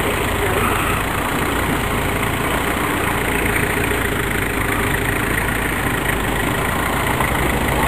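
A diesel engine idles steadily and loudly nearby, a continuous, even rumble with no change in pace, and no other sounds stand out over it.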